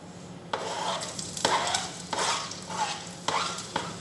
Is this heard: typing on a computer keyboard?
no